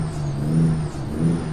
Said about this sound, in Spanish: Oigan el motor.